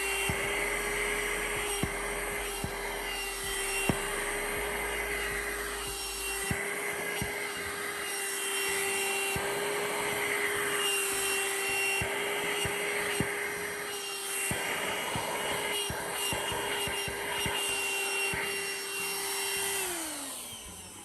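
VacLife VL189 handheld vacuum cleaner running continuously at close range, a loud steady motor whine with broadband airflow hiss that winds down at the very end, with no talking over it.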